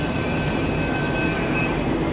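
Mumbai metro train heard from inside a carriage: a steady, close rumble of wheels and running gear with a faint high whine throughout, and no voices.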